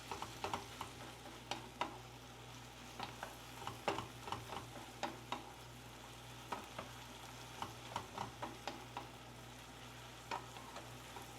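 Shrimp sizzling in a hot pan while finishing cooking through: a steady crackling fry with frequent irregular pops and occasional utensil clicks, close and fairly quiet, with no talking.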